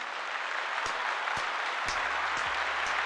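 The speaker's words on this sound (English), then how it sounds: "Can we clap it up for Terrence?" Sustained audience applause on a sports talk show, clapping it up for a cousin; a dense, even wash of many hands clapping, steady and fairly loud for the whole stretch, with a few isolated thumps underneath.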